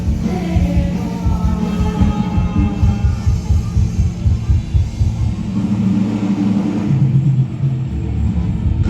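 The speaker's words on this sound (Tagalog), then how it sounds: "sobrang ng traffic na, no? Marami ang traffic na." Heavy traffic on EDSA, a dense continuous rumble of many engines with crowd noise mixed in, steady and loud throughout with no clear talk.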